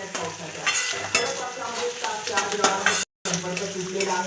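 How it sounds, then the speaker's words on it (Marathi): Poha ingredients fry and get stirred in a pan, a close crackling sizzle broken by frequent scraping and clinking of a spoon against metal, with one brief dropout. "थोडं 2 मिनिटं तळायचं."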